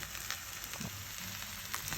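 A cube of butter sizzles in a frying pan while stuffed eggplants brown, a steady soft crackle with a few brief louder pops, close and alone without talk.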